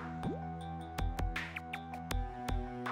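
Water dripping and splashing in a small plugged-in rock fountain with a mini waterfall, heard as scattered close drips and plops over a steady low electrical hum from the pump, with no voices.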